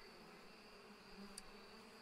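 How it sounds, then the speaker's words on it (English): A steady insect buzz from a bee in a bee-breeding video game, faint and continuous throughout with a brief click near the middle, no voices. "wait, we just have a fucking bee"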